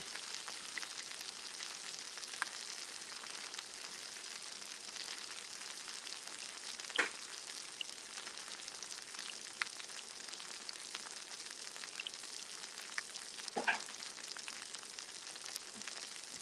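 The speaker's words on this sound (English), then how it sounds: "I'm putting a little sear on it" Vegan oxtails searing in a pan give a faint, steady sizzle and crackle, with occasional louder pops from the pan in an otherwise quiet kitchen.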